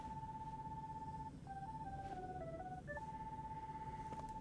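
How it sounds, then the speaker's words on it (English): Kingdom Hearts 3 gummy phone from Chip and Dale ringing as a steady electronic tone that breaks into a quick run of shifting melodic beeps, then returns to the held tone, over a low background hum; no talking. "Oh, the gummy phone from Chip and Dale."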